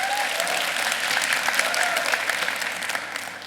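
Congregation applause at a church sermon, a dense steady wash of many hands clapping that holds strong for several seconds and tapers slightly at the end.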